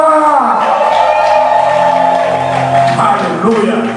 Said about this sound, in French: Tous les cris de victoire.